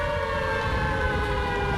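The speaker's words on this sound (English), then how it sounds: "When would you ever need an air raid siren?" A steady air raid siren wails in a sustained, loud tone that holds without pause through the whole short stretch.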